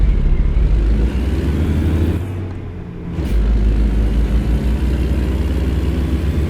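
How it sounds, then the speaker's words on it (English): A Kenworth W900 truck engine in American Truck Simulator drones loud and low, a steady deep rumble that dips briefly as revs drop during a gear change, then returns to a constant cruising roar with no voices. "The RPMs and the sound of the engines."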